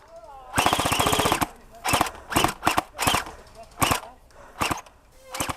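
Airsoft guns firing during an outdoor skirmish game: a long rapid burst followed by a string of sharp, separate bursts and single shots, loud and close, with faint voices in between.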